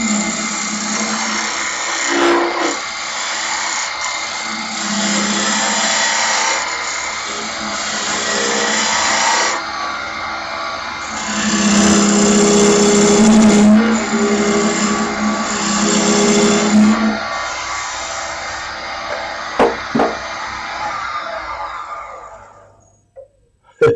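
A wood lathe spins a mallet blank while a roughing gouge cuts it, making a loud, continuous whirring and grinding that swells and fades as the tool engages. The motor winds down near the end.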